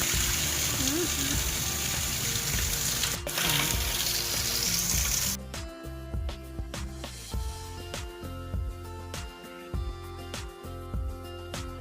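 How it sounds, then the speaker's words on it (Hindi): Heavy rain pours down outdoors in a steady, dense wash of water noise that later thins into distinct drips and splashes, with a loud clatter partway through. "डेली देखो कितनी तेज बारिश हो रही है"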